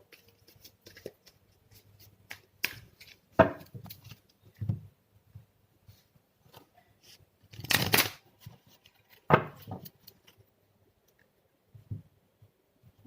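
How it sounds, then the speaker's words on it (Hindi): Cards from a tarot deck are shuffled and drawn in a quiet room, with a few soft, brief papery riffles and slides scattered between long silences, close and faint. "यहाँ पे हम और एक कार्ड निकालते हैं"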